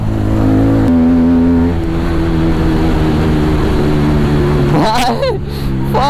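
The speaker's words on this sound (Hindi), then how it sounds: "क्या क्रेजी बैकफायर आ रहा है," Car exhaust backfiring and crackling on a night ride in traffic, a loud steady engine drone with sharp popping bursts near the end.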